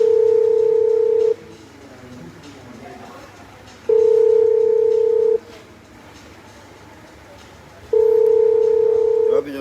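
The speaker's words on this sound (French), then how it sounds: "Mousto, il y a son téléphone qui sonne là." A telephone rings in repeated tone bursts, three long rings separated by pauses, fairly loud over quieter background talk during a French-language live stream.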